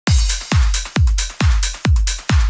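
A dance drum loop for a track plays without parallel glue compression, punchy four-on-the-floor kicks thumping about twice per second with hi-hats and snare hits between, loud and dry.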